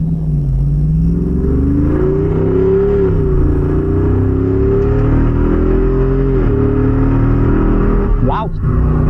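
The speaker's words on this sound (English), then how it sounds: "I'm gonna accelerate hard here." A 2025 Jeep Wrangler Rubicon 392 Final Edition accelerating hard, its engine droning loudly and steadily from inside the cabin as the pitch climbs and drops through gear changes, with a brief whine near the end.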